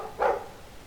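A Mabari war dog in the video game Dragon Age II gives a single short bark, a brief mid-pitched burst heard alone over quiet background.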